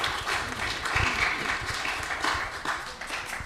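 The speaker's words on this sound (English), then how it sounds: "Let's give them a big round of applause" An audience at a temple gathering at ISKCON Dallas gives a steady, dense round of applause, a continuous wash of many hands clapping at moderate volume throughout.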